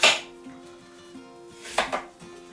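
A knife chops through potatoes and apples on a cutting board in a home kitchen, a loud initial knock followed by a few lighter scattered taps and a cluster of firmer cuts near the end, over a steady background hum.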